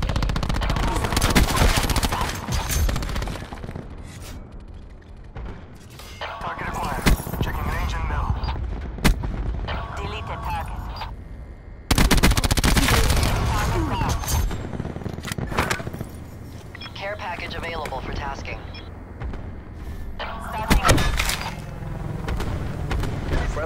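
Repeated gunfire from a Sniper's Nest in Call of Duty: Black Ops 4 comes in loud bursts of sharp shots separated by short lulls, with game sounds and brief voice callouts mixed in.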